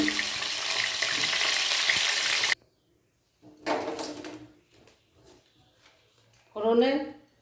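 Potatoes dropped into hot oil in a wok, giving a loud, close, hissing sizzle that cuts off abruptly, followed by scattered handling clatter and faint background voices.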